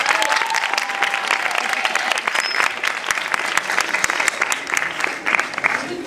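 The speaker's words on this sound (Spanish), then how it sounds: "Saca un aplauso para él, por favor." A school-class audience claps for a last-minute stand-in pianist, a loud crowded burst of applause with sharp individual claps standing out, a few voices mingling faintly and the clapping holding steady throughout.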